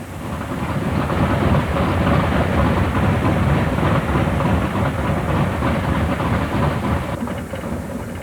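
A B-29 bomber's big radial engines roar close by in a thick, continuous rumble that swells slightly and stays loud throughout.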